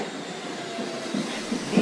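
A New York subway train rolls through a station with a steady, loud rumble, a continuous roar of wheels on rails that swells slightly toward the end.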